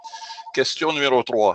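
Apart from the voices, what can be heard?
telephone ringing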